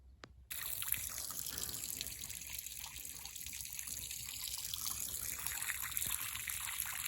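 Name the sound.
water running to fill cattle water for bulls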